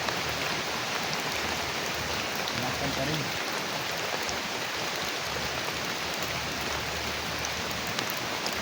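Steady rain falls in a dense, unbroken hiss across the whole stretch, with a brief spoken phrase in Filipino heard faintly over it.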